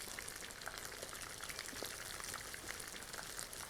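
A pan of egg masala gravy with fresh cream fries on the stove, giving a steady, even crackle and bubbling sizzle that stays constant and fairly soft throughout.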